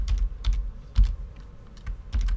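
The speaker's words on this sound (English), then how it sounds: "I'm just typing these here as if I'm filling out this table here" Quick keystrokes on a computer keyboard while entering values into a table, a close, irregular run of sharp clicks and taps with short pauses between bursts, with no talking.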